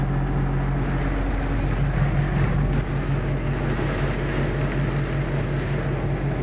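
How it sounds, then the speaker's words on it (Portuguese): Very heavy rain and strong wind batter a farm without hail, making a dense, unbroken roar with a low rumbling undertone that stays loud and steady from start to finish. "Chuva fortíssima aqui na Esmeralda."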